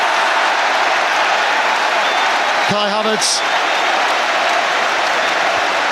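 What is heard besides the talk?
football stadium crowd cheering and applauding at the Emirates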